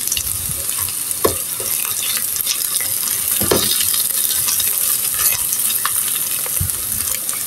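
Potato and eggplant bhaji frying in a pan with oil, a steady loud sizzle throughout while a utensil stirs and scrapes at irregular moments, a few sharper clinks rising above the hiss.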